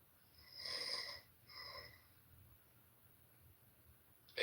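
Snoring from a person, two drawn-out rasping breaths a moment apart, quiet and close, followed by near silence.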